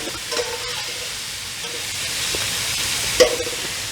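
Sausage, peppers and onions fry on a new electric hot plate set to medium, a soft steady sizzle broken by a few light clinks and stirring scrapes.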